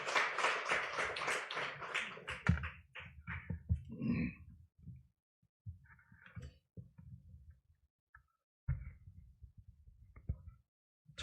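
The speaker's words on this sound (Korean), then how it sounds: "나오실 때 박수로 환영해 주십시오" A church congregation claps briefly to welcome a pastor to the pulpit, a short patter of applause at the start that quickly thins into scattered faint taps in a quiet room.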